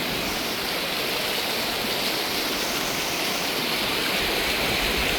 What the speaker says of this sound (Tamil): அப்படி தண்ணி ஓடுதண்டு